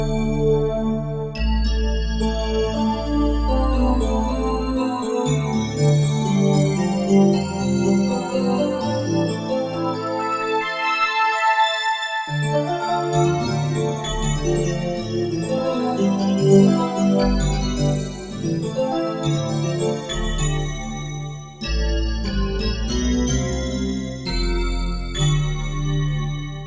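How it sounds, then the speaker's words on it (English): A Fantasia synth patch playing a continuous, layered bell-like pad with shifting chords, loud and busy throughout with one brief dip partway, no talking. "I think there was somewhere where he used this Fantasia sound"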